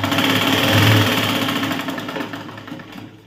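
A sewing machine stitches a blouse with a loud, fast, continuous mechanical whir close by. It slows and fades toward the end.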